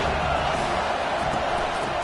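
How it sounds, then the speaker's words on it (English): Stadium crowd in a Madden football video game, a loud, steady broadband roar of cheering that holds constant throughout. "this crowd is turning it up a notch"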